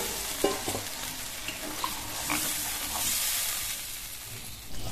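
Water going into a pan of fish curry with cauliflower, then stirred, with a broad sizzling hiss and a few soft clinks of the spoon against the pan, fairly close and steady.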